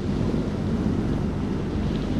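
Storm thunder on a boat at sea in the horror game Man of Medan: a low, steady rumble that rolls on without a break, mixed with wind-like noise.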